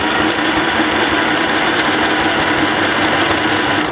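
A sewing machine runs continuously while stitching a zigzag seam along the ribbed edge of a t-shirt dress, a loud, close, rapid mechanical whirring and clicking with no pauses or talking.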